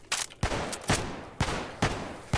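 A drum-mag gun fires in Cataclysm: Dark Days Ahead with sharp, loud bursts roughly every half second, about six distinct blasts in quick succession, each with a brief crackling tail.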